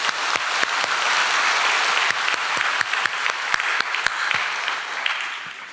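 Congregation clapping together during a Sunday worship service at a Full Gospel church in Daegu, a steady, dense wash of applause with a few sharper claps standing out, lasting throughout and easing slightly at the end.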